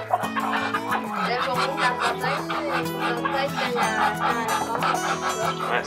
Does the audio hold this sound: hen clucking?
yes